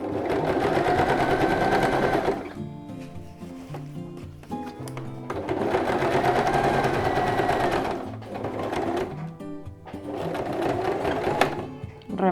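Sewing machine running in long bursts while stitching the pocket of a reversible, roll-up fabric placemat, a steady close mechanical whir stopping briefly between passes, with faint handling noises in the pauses.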